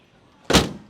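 The hood of an old, 22-year-old Mercedes car slams shut in one sharp, heavy thud, close and loud after a quiet lead-in, with a short ringing decay.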